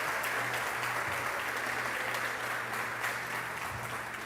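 Sustained applause from a church congregation during a worship service, a dense, even wash of many hands clapping that holds steady throughout, with a low hum underneath.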